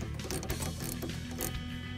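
A ratchet wrench rapidly clicking as it tightens the upper nut on an air suspension shock of a 2005-2014 Ford Mustang, close and continuous for two seconds with no speech.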